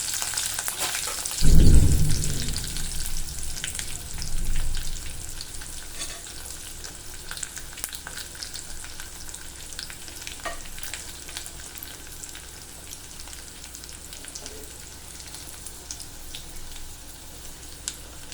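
Asafoetida hits hot oil in a pan while tempering dal, bursting into a loud crackling sizzle that fades into a steady, quieter frying hiss, with no voices.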